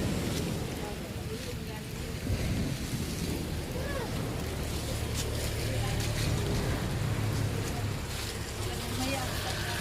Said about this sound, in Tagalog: tingnan mo ang maulan ang panahon ngayon.